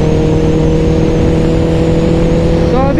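A Honda CBR650R motorcycle engine holds a loud, steady drone in sixth gear at low road speed, then a rising whine climbs in pitch near the end.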